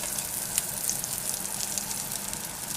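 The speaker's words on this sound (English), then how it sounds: "I am going to flip this omelette over in half and give it a good tap so the inside is actually cooked." An omelette sizzling in a frying pan, a steady soft crackle and hiss at moderate distance with a faint light tap partway through.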